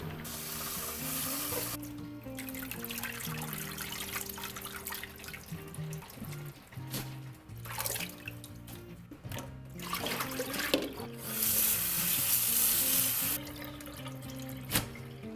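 Salted cabbage for vegan kimchi is rinsed under running tap water in a sink, a steady loud rush of flowing water with splashing and handling noises throughout, swelling louder near the end.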